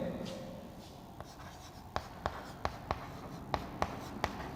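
Chalk writes on a board during a cell biology lecture, a quiet series of sharp taps and strokes in an irregular rhythm at close range.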